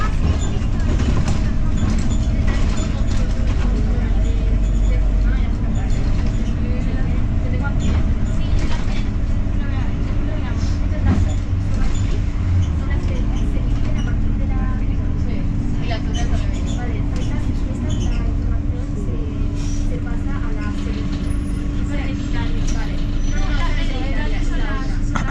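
Interior of a city bus moving through Palma on a January morning: a steady low engine drone and road rumble with rattles and hums, continuous and close, with faint voices underneath.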